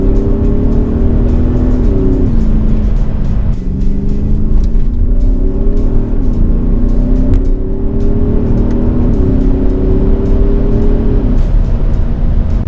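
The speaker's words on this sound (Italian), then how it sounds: "Questo è un motore veramente grosso e potente." An Audi SQ7 ABT's big diesel engine revs hard and loud from close by, its deep droning note climbing in pitch, dropping back and climbing again through several gear-like steps over a steady rumble.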